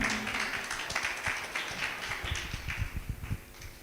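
An audience at a live singing competition audition in Reckong Peo, Kinnaur, breaks into steady applause to welcome the chief guest, a dense, moderately loud patter of many hands with no talk.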